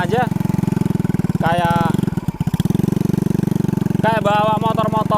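A modified Dutch-era motorcycle engine runs at a steady, rapid thumping idle, loud and close, while people talk over it intermittently.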